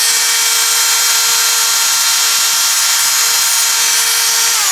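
A Dremel rotary tool whines at a steady high pitch as it grinds plastic from a USB charger, loud and close throughout, with the pitch sagging slightly at the very end.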